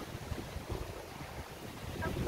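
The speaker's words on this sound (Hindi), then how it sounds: "अभी भी ऐसी हवा चल रही है, मतलब पेड़ झूल रहे होंगे" Strong wind after heavy rain among hills by water, a steady, rumbling gust buffeting the microphone throughout, fairly quiet overall with no talking.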